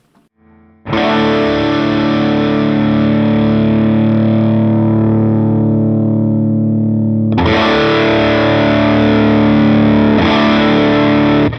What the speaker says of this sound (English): I hear just distortion, not necessarily fizziness